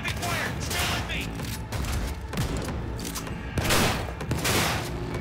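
Heavy gunfire in the video game Cyberpunk 2077: dense, continuous volleys of loud shots and booming impacts that run the whole stretch without a break, with heavier bursts near the end.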